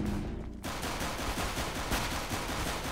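Rapid automatic gunfire in CS:GO during a co-op mission, a dense continuous burst that starts abruptly after a brief lead-in and rattles on loudly to the end.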